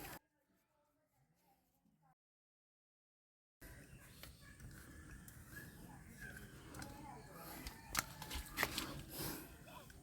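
A water tap is screwed by hand onto a threaded plumbing pipe. After a brief silence, close, continuous scraping, creaking and clicking of the threads starts and runs on steadily.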